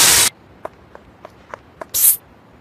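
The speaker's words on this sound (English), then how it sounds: "Pepper spray and power wash." Two loud, short hissing blasts of spray, pepper spray and power-wash spray in a cartoon, one at the start and one near the end, separated by a few faint soft ticks and taps.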